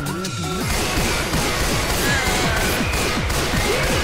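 A sniper rifle firing incendiary rounds in the co-op zombie shooter Left 4 Dead 2, amid loud, chaotic combat noise with repeated sharp impacts and crashing hits that carry on without a break.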